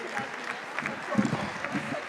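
An audience at the closing ceremony of the Dakar GSEF 2023 conference applauds in a steady standing ovation for a minister, with voices faintly audible under the clapping.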